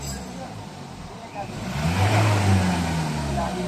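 A car engine revs up from idle and holds a higher, louder hum before easing slightly, heard close by during a check of the engine support, with people talking in the background.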